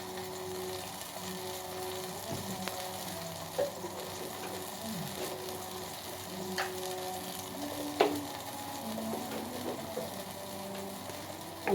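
Cumin and a spoonful of black pepper fry in oil in a pan, a steady close sizzle running throughout with occasional small pops and stirring clicks.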